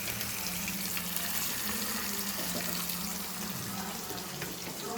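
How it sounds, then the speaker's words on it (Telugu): Fish fries in a pan in a home kitchen, giving a dense, continuous sizzle and crackle at close range, steady throughout with a faint hum underneath. "నువ్వు వేపుతా ఉండు"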